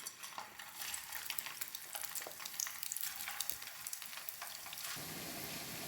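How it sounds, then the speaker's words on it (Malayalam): Snacks made from leftover rice fry in hot oil in a pan, giving a continuous, fairly quiet crackling sizzle with faint popping, heard up close without speech. "ഇനി പാൻ ചൂടാക്കി അതിലേക്ക് ഓയിൽ ഒഴിച്ചിട്ടുണ്ട്. ഇനി നമുക്കിത് ഓരോന്നായിട്ട് പാനിലേക്ക് വെച്ച് കൊടുക്കാം."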